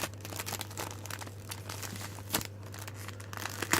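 Adhesive tape being pulled and handled while finishing a folded paper owl photo peg pack, a series of close crinkly rips and rustles with a sharper tearing burst near the middle and end, no talk.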